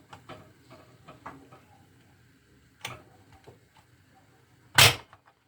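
Short clicks and knocks of a Korkmaz pressure cooker lid being handled and closed, with a sharp loud snap near the end as it locks, close by in a quiet kitchen.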